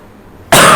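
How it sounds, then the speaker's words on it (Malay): A single sudden, loud, close cough from a man who has had a cough for two weeks, breaking out after a half-second of near silence at a religious talk, harsh and broadband. "sebab batuk tak habis lagi"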